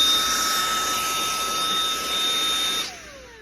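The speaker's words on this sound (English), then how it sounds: "So this is the one where the air blows out, and this is where it's sucking in." A Pulse Pro electric SUP air pump blows air in a loud, steady whirring hiss with a high whine, then cuts off near the end as the motor spins down.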